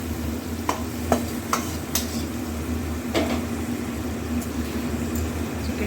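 Marinated chicken sizzling in a hot pan with cracked black pepper, a constant close frying hiss with a few sharp knocks and scrapes from stirring.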